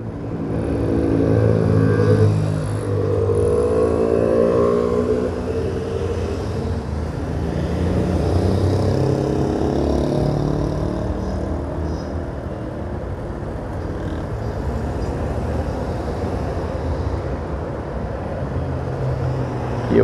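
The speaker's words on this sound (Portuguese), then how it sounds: "Muito carro em Natal. Todas as ruas que a gente anda, o movimento é grande de veículo." Busy city street traffic in Natal, Brazil, with cars and motorcycles passing continuously, a steady loud rumble of engines and tires close by, swelling briefly near the start and holding an even drone throughout.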